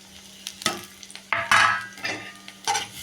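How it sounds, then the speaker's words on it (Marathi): Grated coconut, coriander, spice masala and garlic sautéing in a pan for an egg curry, with soft sizzling and irregular scraping stirs of a spatula that come close and loud in bursts. "आता मी खोबरं किसून घेतलेलं आहे, धने व मसाला, लसूण, कोथिंबीर हे आपल्याला छान असं परतून घ्यायचं आहे."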